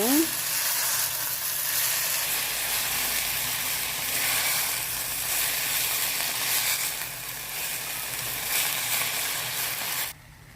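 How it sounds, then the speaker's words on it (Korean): Silkworm pupae (beondegi) stir-fried in a pan give a loud, steady sizzle with stirring scrapes that holds for about ten seconds and then stops abruptly. "이제 번데기를 넣고 같이 볶아보도록 할게요"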